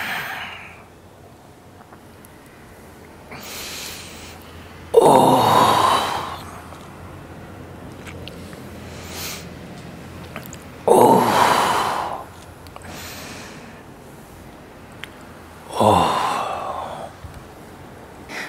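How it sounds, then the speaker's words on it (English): A group doing a guided breathing exercise at a workshop in London, with three loud, slow breaths roughly five seconds apart, each a long airy rush that fades, over a quiet room without talk. "inhale, expanding, exhale, flattening down, inhale, exhale."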